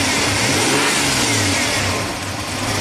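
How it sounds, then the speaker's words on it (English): A Ford Ranger pickup engine that barely runs and seems to run rich revs up close by, a loud rough mid-pitched roar rising and then easing back over about three seconds, with no talking. "If we rev it up"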